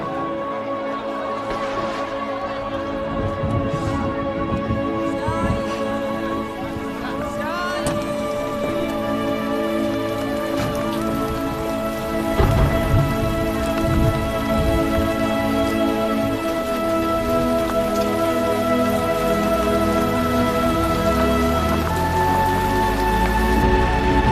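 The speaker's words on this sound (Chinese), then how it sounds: "下雨了" Steady rain hisses throughout, a dense continuous patter beneath sustained musical tones.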